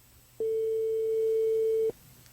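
A telephone ring tone sounds during a live call that goes unanswered, one steady electronic tone lasting about a second and a half, clear and alone over a low hum.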